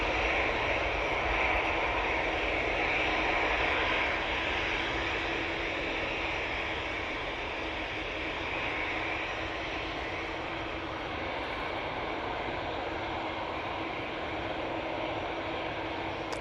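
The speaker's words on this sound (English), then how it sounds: "That's the Ryanair off to Murcia. Using their 737-800." A Ryanair Boeing 737-800 departs from Manchester Airport for Murcia, its jet engines giving a broad, steady roar that holds for the full stretch and eases slightly in the middle, fairly distant, with no talk.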